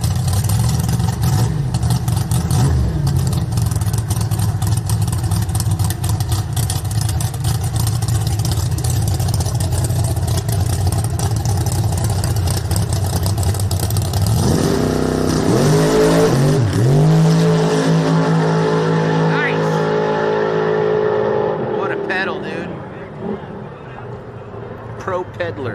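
At a drag strip test-and-tune night, a race car launches hard down the track in a sky-high wheelie, its engine roaring loud and steady, then sweeping through shifts and fading as it pulls away, with people talking over it.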